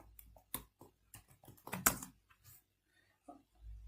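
A focus keyword is typed on a computer keyboard in WordPress, with a quick burst of close, crisp keystrokes that slows to a few scattered taps before falling silent.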